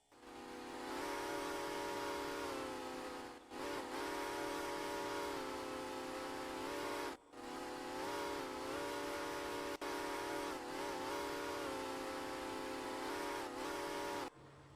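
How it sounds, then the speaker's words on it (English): A six-chime Santa Fe steam locomotive whistle in the train simulator game Derail Valley sounds in four long, loud, steady blasts separated by brief gaps, with a hiss of steam underneath. "That is a really good 6-chime Santa Fe whistle."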